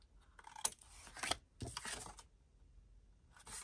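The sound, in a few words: folding and burnishing a paper album page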